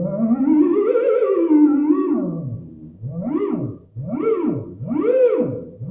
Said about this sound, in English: It's called the theremin